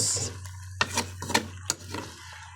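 Ginataang pagi, stingray in coconut milk, is stirred in a pan with a few distinct close scrapes and clinks over a low steady hum and a soft bubbling sizzle.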